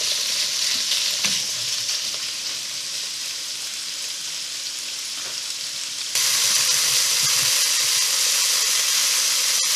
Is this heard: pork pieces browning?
yes